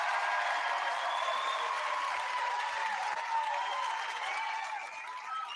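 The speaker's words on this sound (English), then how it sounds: "Would you join me in a little applause for our two civilian contestants here" A television game show studio audience applauds the two civilian contestants with sustained, dense clapping at an even level that tapers slightly near the end.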